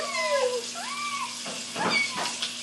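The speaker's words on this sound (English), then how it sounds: "A very young kitten cries to get its mother's attention." A very young kitten gives a few thin, rising meows close by, followed by softer scuffling sounds.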